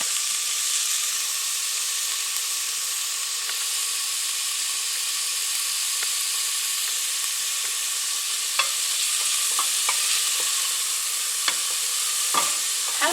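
Chopped vegetables sweat in a cooking pot for chicken soup with pasta, giving a steady, close sizzle and hiss throughout, with a few sharp clicks from stirring near the end and no talk.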